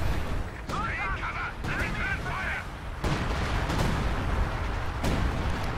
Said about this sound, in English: That may be the longest barrage I've ever seen.